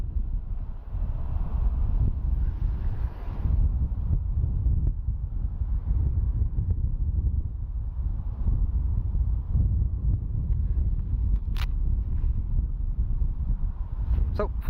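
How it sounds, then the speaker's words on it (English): Strong gusty wind buffets the microphone outdoors at Dublin Airport, a loud continuous low rumble with a brief higher-pitched whine near the end. "got a bit breezy and a bit cooler here"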